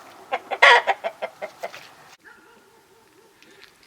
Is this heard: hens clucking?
yes